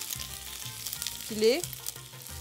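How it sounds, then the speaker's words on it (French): Bacon, onions and garlic frying together in a pan, a quiet steady sizzle with a low hum beneath and a brief rising tonal squeak midway. "On laisse fondre bien les oignons avec l'ail"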